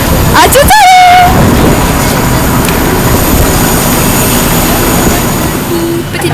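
Inside an airplane cabin just before takeoff, the engines give a steady, loud broadband roar that fills the whole clip while someone talks over it.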